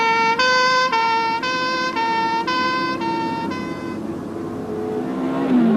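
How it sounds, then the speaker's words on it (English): A passing vehicle's high tonal note drops in pitch toward the end as it goes by, showing a Doppler shift; the sound is steady and fairly loud with no one talking. "And as the racing car passes, the note gets lower because the sound waves are spread out again."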